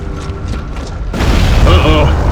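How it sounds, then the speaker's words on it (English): A heavy rumbling boom shakes a building in the Gears of War: Judgment video game, a low roar that swells suddenly partway through and stays loud, with faint voices before it. "The explosion weakened the building."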